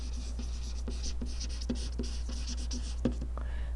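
Chalk or marker writing out an equation on a board gives short, faint scratching strokes in an irregular rhythm, with quieter pauses between strokes and no talking.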